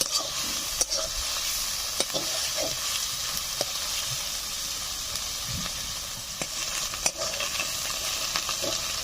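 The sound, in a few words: onion paste frying and being stirred in oil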